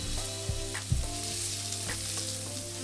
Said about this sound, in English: I like to fry my spices before adding any liquid